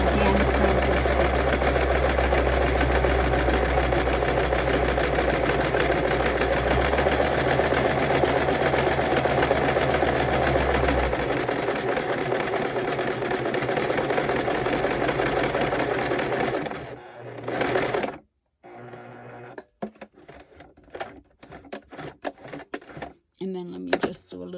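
A sewing machine stitches around the edge of a fabric collage journal, running steadily and loudly for about seventeen seconds. It then stops, followed by a few slow clicks, with a person talking over the sound.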